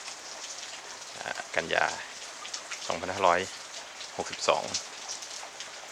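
Steady rain falls in Yasothon province, Thailand, after a tropical storm, a constant hiss under someone talking close by in several bursts.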